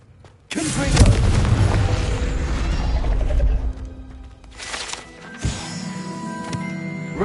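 A Confringo explosive spell in Hogwarts Legacy goes off as a loud, deep boom with a rumbling tail lasting a few seconds, followed by a smaller second burst and lingering game effects.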